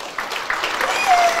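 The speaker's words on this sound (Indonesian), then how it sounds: "Tepuk tangan buat Tuhan." A church congregation claps during a Thanksgiving service, a short, moderately loud burst of applause with a few distinct louder hits and some faint voices mixed in.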